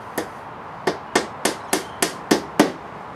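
Eight sharp hammer strikes land at a steady pace, each a crisp, close knock on wood as tacks are driven into a wooden LARP shield, with no talking.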